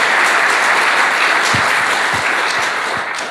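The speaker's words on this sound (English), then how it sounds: "Everyone, round of applause." Steady audience applause fills the room at the close of a comic festival panel, a dense continuous patter of many hands with a few low thumps, holding loud throughout and easing slightly toward the end, with no talking.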